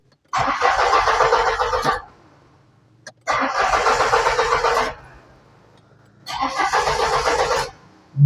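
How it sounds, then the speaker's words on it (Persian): A car with a weak fuel pump is cranked three times, each grinding burst of the starter lasting about one and a half seconds and separated by short pauses of near silence. "باید 3-4 بار استارت بزنی تا بعد ماشین روشن بشه"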